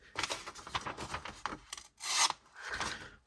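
A MagnaCut steel knife saws through paper up close, making raspy scraping strokes with brief pauses and a louder, rougher pass near the end, with no talking.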